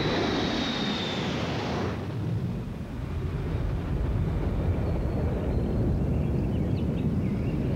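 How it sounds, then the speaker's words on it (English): An airplane passes over Walden Pond beneath nearby airport flight paths, a broad steady engine roar that is loud and close, with a brief whine at the start, continuous throughout with no voices. "Today, Walden Pond lies beneath the flight patterns of a nearby airport."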